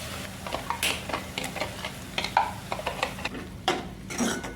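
Stirring freshly added chopped tomato into a pan of matar paneer masala, with a scraping spatula, soft sizzling and a few light clinks of utensil against the pan, close and without speech.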